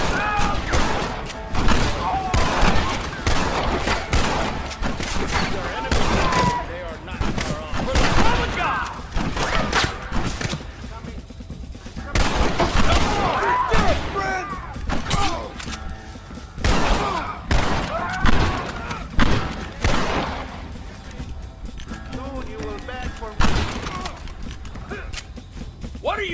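Repeated gunfire crackles through a chaotic Red Dead Redemption shootout, with irregular bursts of sharp shots spread across the whole stretch, mixed with shouting voices and general battle noise.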